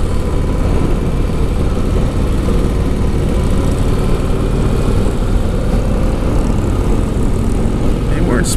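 A Harley-Davidson CVO Street Glide motorcycle accelerates onto the interstate, its engine a loud, constant low rumble mixed with heavy wind roar, close and unbroken throughout.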